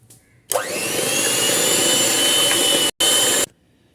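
An electric mixer whirs steadily at high speed while beating cream with sugar and vanilla essence, starting abruptly, briefly cutting out once near the end, then stopping.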